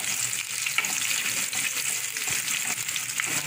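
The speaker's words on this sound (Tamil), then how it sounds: "நல்லா வதக்கிக்கலாம் வெங்காயம்." Onions sautéing in a pan for a postpartum garlic kuzhambu: a steady, dense sizzle with light stirring scrapes throughout, fairly close and even in loudness, with no talking.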